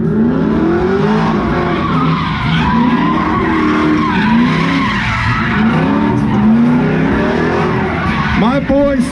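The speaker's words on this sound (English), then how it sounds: "My boy swinging that truck out there today." A pickup truck skids and swings around in reverse at the SEMA Show in Las Vegas, a loud, continuous screech of tires and roaring engine filling the whole stretch while a crowd shouts and cheers over it.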